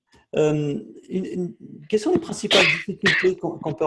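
A sharp sneeze bursts out in the middle of French conversation in an indoor interview, close and loud, with talking before and after it.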